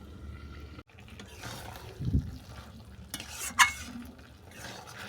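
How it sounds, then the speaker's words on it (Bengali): Chicken being stir-fried in a covered pan for a kohlrabi chicken curry, with soft stirring and scraping over a low sizzle and a couple of sharper clinks of utensil on pan; no one talks. "এইভাবে বারবার চাপা দিয়ে দিয়ে আমি চিকেনটাকে ভালো করে কষিয়ে নেব"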